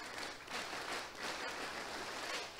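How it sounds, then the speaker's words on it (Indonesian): Children performing a tepuk pramuka scout clap together, a dense, steady wash of many hands clapping close by with a few swelling pulses, no talking over it. "Tepuk pramuka."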